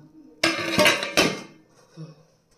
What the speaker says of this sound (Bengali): ততক্ষণে আমি এটাকে ঢাকনা লাগিয়ে দিচ্ছি